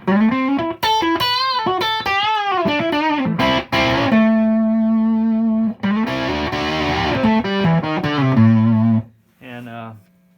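An electric guitar played through a 2:11AMps Ultimate Fuzz Face prototype pedal rings out in fuzzy, sustained phrases and held notes, loud and close, before cutting off near the end.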